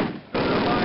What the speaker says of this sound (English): fire up those machine guns!